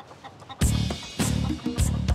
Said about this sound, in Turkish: bunlar o yüzden kendilerini horoz zannediyorlar, ötü veriyorlar